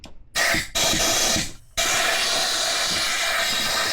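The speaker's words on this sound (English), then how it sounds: "I'm gonna blow out the 2 holes that we put WD-40 in." Compressed air blasts out WD-40 from two holes in an engine block during turbo and head stud reassembly: a short loud hiss, a longer burst, then a steady, close, continuous roar of air.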